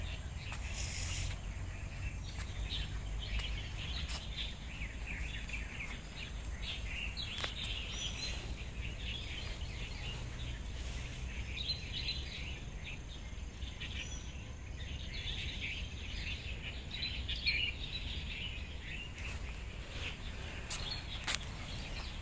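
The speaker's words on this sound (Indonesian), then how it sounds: "masih dengar kan suara itu, suara burungnya itu" Birds call in a park with pine trees, thin chirps repeating steadily at a moderate distance over a soft outdoor hum, with no talk.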